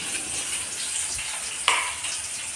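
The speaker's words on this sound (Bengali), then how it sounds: "পালং শাক বেগুন সিম দিয়ে একটা ভাজা করছি।" Spinach, eggplant and flat beans fry in a pan with a steady, close sizzling hiss. One sharp crackle pops out near the end.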